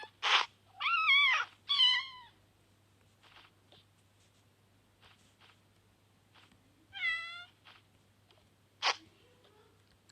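Several cats meowing in short, separate calls with quiet gaps between them, fairly close and clear, with a faint steady hum underneath.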